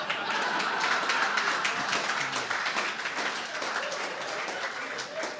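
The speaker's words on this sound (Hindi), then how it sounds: "2-3 लोग ताली बजा रहे हैं" Sparse applause from a few people at a Hindi-Urdu poetry gathering, kavi sammelan and mushaira, in Dubai, irregular hand claps rattling steadily for several seconds with a voice speaking over them.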